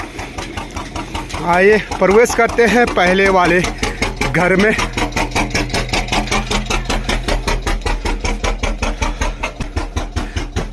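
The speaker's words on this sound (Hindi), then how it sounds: "चक्की की आवाज़ आपको सुनाई दे रही होगी।" Engine-driven village flour mill running, a steady rhythmic chugging thump that persists throughout, with someone speaking over it near the start.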